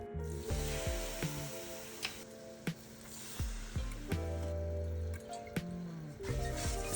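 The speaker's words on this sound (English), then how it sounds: "Simmer over medium heat." Teriyaki sauce of mirin, soy sauce, sake and sugar simmering in a pan over medium heat, a steady close sizzle and bubbling with occasional sharp clinks and pops, no talking.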